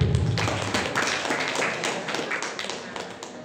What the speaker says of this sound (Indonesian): Mari juga beri tepuk tangan kepada beliau yang meriah.